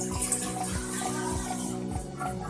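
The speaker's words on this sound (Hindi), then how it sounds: "पैन को हमने मीडियम फ्लेम पर रखना है और इसके अंदर जो है वो हमने 1/2 लीटर पानी ऐड करना है।" Half a litre of water poured into a pan on a medium flame to make sugar syrup, a steady continuous splashing stream, close and fairly loud, with no talking.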